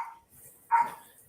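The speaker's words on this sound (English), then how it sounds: "Dog barking in the background of the live stream." A single dog barks once in the background, short and moderately distant, after a fainter earlier yip, with quiet surroundings otherwise.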